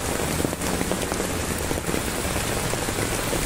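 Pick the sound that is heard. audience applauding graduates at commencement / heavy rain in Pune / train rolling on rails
heavy rain in Pune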